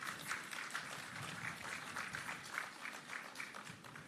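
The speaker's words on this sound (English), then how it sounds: "And I think that deserves a big round of applause." An audience applauds at a handover ceremony for 93 buses to the Jamaica Urban Transit Company, a soft, steady patter of many hands heard from a distance with a slightly rhythmic swell.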